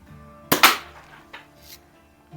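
Air pistol shots from a Daisy 188 or Healthways Plainsman 9401, fired at a paper target: a sharp, loud pop followed by a quick second burst, then fainter clicks and handling noise, with no talk.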